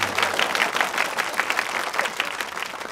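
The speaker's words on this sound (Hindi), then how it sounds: "तालियां।" Steady crowd applause in a Hindi film scene, dense and even throughout, with no talk over it.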